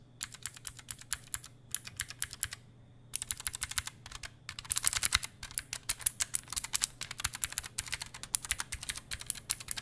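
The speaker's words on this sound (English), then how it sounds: "I want to have you hear the key sound when I press the keys." Computer keyboard keys pressed in quick bursts of close, crisp clicking typing, pausing briefly then continuing steadily, with a faint hum underneath and no talking.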